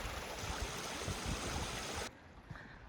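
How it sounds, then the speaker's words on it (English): Clear stream water rushing and gurgling steadily toward a lake in a Mt. Baker-Snoqualmie National Forest woodland, loud and close, then dropping abruptly to a softer, quieter flow near the end. "All this water is flowing into the lake beyond the trees."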